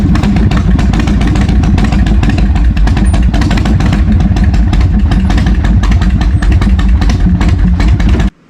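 A cruiser motorcycle engine rumbles loud and close with a steady, throbbing beat that holds throughout, then cuts off abruptly at the very end.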